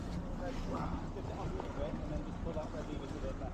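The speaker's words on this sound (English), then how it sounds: "This is me driving the boats in Antarctica for the ice for the first time." An outboard motor boat is driven among the ice in Antarctica, its low, steady engine drone running close and continuous, with wind noise and voices mixed in.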